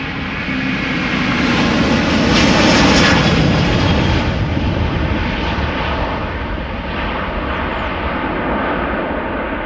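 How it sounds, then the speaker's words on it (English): A passenger airplane takes off at Amsterdam Schiphol Airport, its jet engines producing a loud, sustained broadband roar that swells to a peak and then slowly eases while staying strong throughout. "there was an airplane just now that took off from center"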